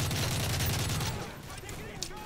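Rapid automatic gunfire in the video game Modern Warfare 3 rattles in a dense burst for about a second, then gives way to fainter scattered shots and game ambience.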